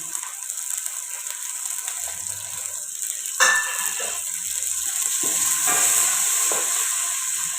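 Tomatoes go into hot oil with cooked ginger and garlic for a Pakistani moringa flower and mutton dish, giving a sudden loud sizzle that settles into a steady frying hiss, with light stirring scrapes through the rest.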